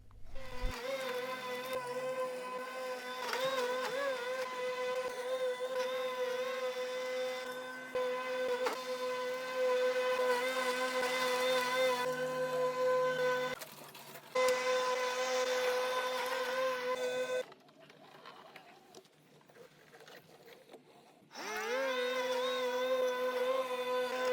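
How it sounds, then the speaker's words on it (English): A Lymow One Plus robot lawn mower cutting grass in Australia on a double pass, giving a loud, steady motor whine with a tonal hum that breaks off briefly twice, as when the blade stops so the mower can reposition. "We used a double pass to get a more consistent cut, and the mower was also able to successfully navigate around the no-go zone we created."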